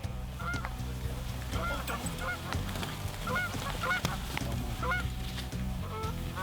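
Many geese honking in a busy flock, overlapping calls near and far over a low rumbling background.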